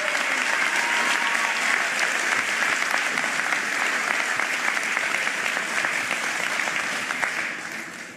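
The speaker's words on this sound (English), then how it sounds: "Give that a huge round of applause, please." Sustained applause from a large crowd at a civic event marking a Philadelphia mayor's first 100 days, steady and dense clapping throughout, fading slightly at the end.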